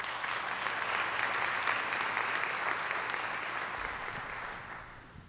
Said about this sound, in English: Another round of applause to the President, please